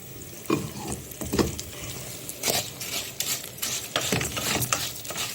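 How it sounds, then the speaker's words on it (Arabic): Onion frying in a pan with orzo and vermicelli for Egyptian koshari, a close crackling sizzle broken by repeated scraping stirs of a spoon against the pan. "انا بحمر هنا البصله"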